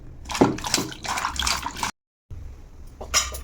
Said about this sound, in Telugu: ఇప్పుడు దీన్ని శుభ్రంగా కడిగేసుకుందాం.